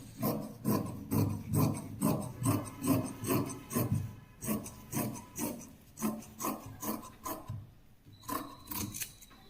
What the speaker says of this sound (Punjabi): ਹੁਣ ਆਪਾਂ ਐਕਸਟਰਾ ਕੱਪੜੇ ਨੂੰ ਕੱਟ ਕਰ ਦਿਆਂਗੇ